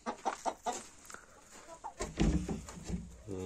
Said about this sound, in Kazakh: Мінекей тауықтарым.